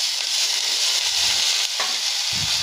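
Chopped onions sizzle and crackle steadily in hot mustard oil in a wok, with a continuous close frying hiss and a few brief stirring bumps, with no talking.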